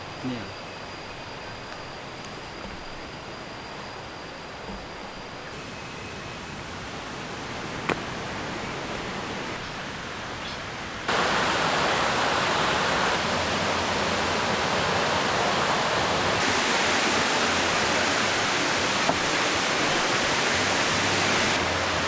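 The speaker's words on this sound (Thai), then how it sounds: "เราก็มาถึงน้ำตกชั้นที่ 7 แล้ว" Chet Sao Noi waterfall in Saraburi, Thailand, pours as a constant broadband rush, moderate at first and then markedly louder and nearer from about halfway through, with a few small knocks and faint speech.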